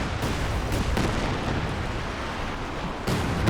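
Katyusha rocket artillery barrage in a Company of Heroes 2 4v4 battle: a dense, continuous roar of blasts and rumbling impacts with sharper bursts near the start and end, no voices.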